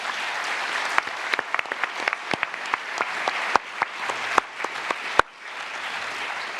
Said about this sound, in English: Can we have a very big round of applause